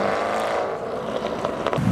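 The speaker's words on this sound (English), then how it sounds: "And now the GT8 from Aston Martin," An Aston Martin GT8 sports car drives past outside a business park roundabout, its engine note a steady, fairly loud hum that rises slightly over two seconds.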